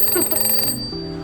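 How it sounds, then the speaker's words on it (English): A working alarm clock rings continuously and loudly up close, a bright metallic trill that changes pitch partway through, with no talk over it. "The alarm clock actually works and gives you an alarm."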